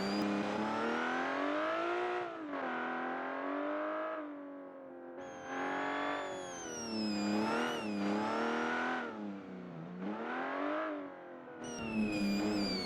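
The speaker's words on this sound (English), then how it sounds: "But the Supercharger whine is just... oh god." A vintage hillclimb car with a supercharged engine in Automation revs hard through tight roads, its piercing supercharger whine rising and falling with repeated bursts of acceleration and gear changes, loud and close with no talk.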